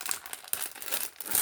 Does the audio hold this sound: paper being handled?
yes